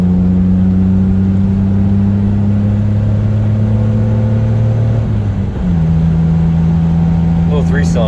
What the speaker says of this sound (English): Little 3-cylinder sounds pretty good.